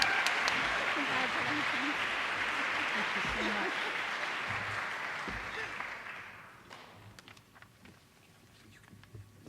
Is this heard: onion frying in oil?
no